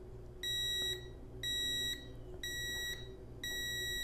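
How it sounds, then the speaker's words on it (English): Portable home gym interval timer sounding four evenly spaced high-pitched electronic beeps, about one per second, each lasting half a second, clear and close over a faint background hum. "It'll beep at 3 seconds."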